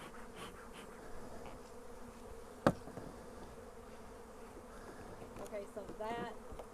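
Bees buzz steadily around two hives set on a pallet, a continuous insect drone close by with a sharp knock partway through; a few brief words are spoken over it.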